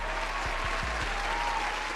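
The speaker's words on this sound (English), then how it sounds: "give him a round of applause." A brief burst of steady applause plays over a low hum, with a few deep thumps partway through and no voices.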